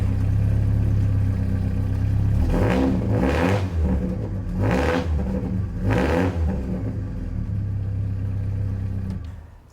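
A Porsche 944 Turbo Cup race car's 2.5-liter four-cylinder engine with magnesium intake manifold idles steadily, then revs up sharply three times in quick succession before settling back to idle, loud and close with no talking.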